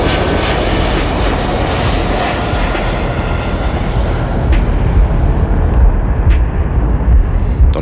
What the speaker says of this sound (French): Son mari regarde l'avion s'élever dans le ciel et prendre de la vitesse.